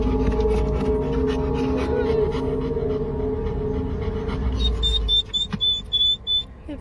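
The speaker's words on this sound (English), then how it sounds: "You can hear it whining and whimpering and panting." Dog whining, whimpering and panting close by, a steady breathy rhythm over a noisy background with a few high thin whines near the end.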